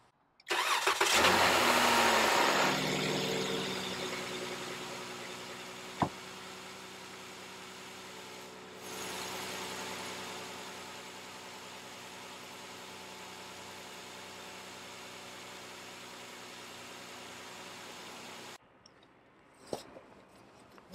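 A Dodge Grand Caravan's engine cranks and catches loudly, then settles into a steady idle that runs for many seconds before cutting off, with a couple of faint clicks near the end and no talking.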